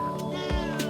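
A cat in a house gives a few short, close meows in quick succession, clear and fairly loud with no talking.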